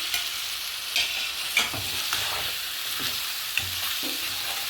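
Tomatoes sizzle and fry with ginger in a hot pan while a utensil stirs them, a steady soft hiss broken by faint scraping clicks, close but quiet, with no voices.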